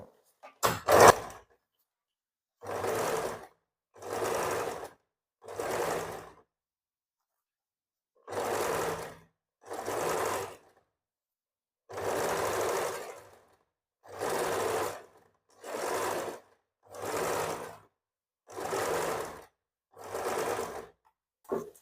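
A sewing machine stitches a baby frock in short separate bursts, about a dozen whirring runs of roughly a second each with quiet pauses between, close and clear, preceded by a couple of quick clicks at the start.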